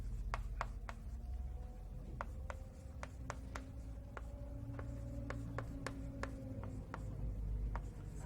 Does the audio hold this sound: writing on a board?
yes